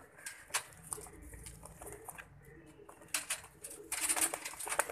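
Sialkoti pigeons, a male and female among others, coo softly in a loft, with low, rolling calls and light fluttering and shuffling at a moderate distance.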